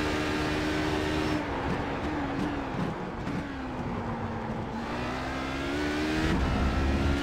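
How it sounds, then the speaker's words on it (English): Roaring engine of an LMP1 prototype race car at Road America in iRacing, a steady loud drone with shifting pitch as it runs close behind, continuous throughout with no talk. "Now look at Jason DeBreeze behind me in an LMP1"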